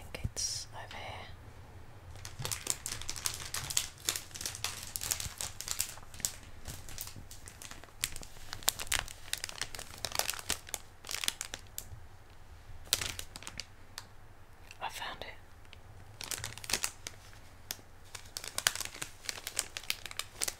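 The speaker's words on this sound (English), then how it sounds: "Now, where did I put that crinkly package?" A crinkly package crumpled and crinkled close up in a binaural ASMR sockpuppet setting, giving sharp, irregular bursts of crackling plastic throughout, with soft whispering underneath.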